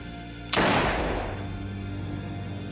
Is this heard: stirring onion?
no